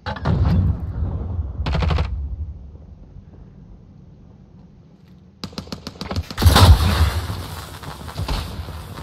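Automatic gunfire rattles in Call of Duty: Modern Warfare, a loud close burst up front and a short second burst. A longer, heavier volley follows after a quiet stretch.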